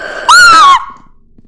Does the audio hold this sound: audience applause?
no